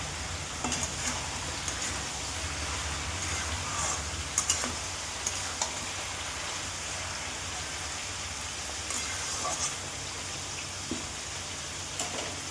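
Bottle gourd and egg being stirred and sautéed in a pan for a Bengali home dish, giving a steady, close sizzle with a few light scrapes and clinks of the spatula throughout.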